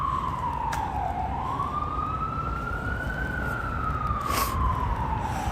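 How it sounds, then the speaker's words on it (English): Emergency vehicle sirens wail along a late-night New York City street in winter, the tone dipping and then climbing in a long sweep over constant city traffic noise. "Pizza and sirens."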